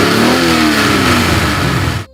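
A 4.7-liter V8 in a Maserati with four Weber carburetors revs hard and steadily for about two seconds, loud and close with a rising engine tone, then cuts off abruptly.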